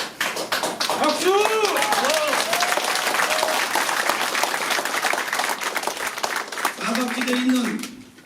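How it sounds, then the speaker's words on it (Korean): Applause rolls steadily through a crowd at a Democratic Party candidate's campaign office opening ceremony in Pocheon-Gapyeong, dense and sustained, with a voice briefly heard over the clapping near the start and again near the end. "박수!"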